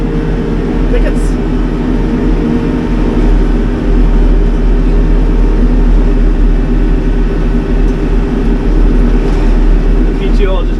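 A tractor-driven Del Morino flail mower grinding through brush and small thickets, a loud, steady, droning engine and PTO roar that continues without a break close to the listener, with someone talking over it.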